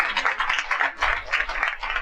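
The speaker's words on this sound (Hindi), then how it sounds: "आपकी तालियां बता रही है कि जच रही है आपकी" Audience applause in a hall during a talk on yoga, with a steady patter of many hands clapping at fairly close range and sustained for a couple of seconds without any speech.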